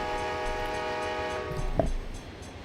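Train from the Run8 rail simulator game rolling past with a steady rumble and sustained tonal horn, a brief sharp clank near the end before the sound fades.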